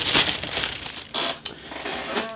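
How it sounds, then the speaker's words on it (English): A hobby knife cuts open and crinkles the plastic bag holding a vintage Airfix 1/24 Messerschmitt Bf 109 E model kit, with close, brisk rustling and a few sharp crackly snips. "So I'll grab my trusty Alpha knife again, and we'll have a look at what is actually in the bag."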